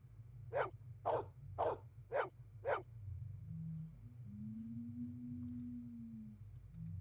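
A dog barks five times in an even rhythm in the video game Blade Runner, fairly close, followed by a soft, low electronic tone hum with no voices.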